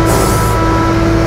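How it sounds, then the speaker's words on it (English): A tow truck bed slides out from under a car during off-loading, giving a loud, steady mechanical drone with a constant hum and a brief hiss at the start, with no talking. "Now we're gonna pull the bed out from underneath the car."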